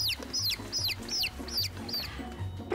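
Chickens clucking in a rhythmic series of sharp, high calls spaced about half a second apart, close and clear over a soft low background hum.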